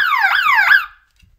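A cheap twelve-dollar alarm siren wails right beside the listener, its loud electronic tone sweeping up and down in two rapid cycles, then cutting off abruptly into near silence.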